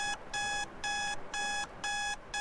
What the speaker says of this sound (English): The game is alarm sounding.